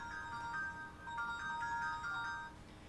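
An old flip phone ringtone sounding close by, a bright electronic melody of short repeating tonal notes in phrases, with no talking over it.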